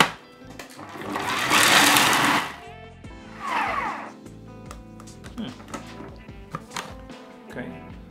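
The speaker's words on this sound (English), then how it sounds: "Blitz up all the ingredients" Blender or food processor blitzing vegan Wellington filling with salted peanuts: a loud whirring burst of a couple of seconds, then a shorter pulse, followed by clatter, knocks and music in the background.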